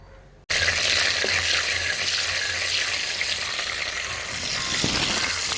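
Mustard seeds and cumin drop into hot oil and burst into a loud, steady sizzle, with faint crackles running through it.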